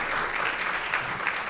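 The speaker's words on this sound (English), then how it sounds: "Give him a round of applause." An audience gives a round of applause, loud and dense continuous clapping for a short burst with no talking.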